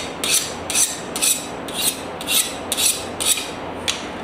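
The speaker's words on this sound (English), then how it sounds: "I can hear it on the file" A file rasps across a forged San Mai blade of iron and carbon steel, about eight even strokes in a steady rhythm, each a bright hissing scrape, close and fairly loud.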